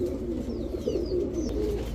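Pigeons coo continuously in a low, steady murmur close by, with a few faint higher chirps drifting over the soft cooing.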